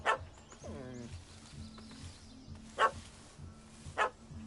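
A dog in the Witcher 3 video game barks at a cat that has fled up a tree, giving a few separate sharp barks and a short whining whimper over a quiet ambient background.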